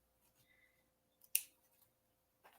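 Scissors snip through paper once for a journal page, a single close, crisp cut in an otherwise quiet room, followed by a faint rustle.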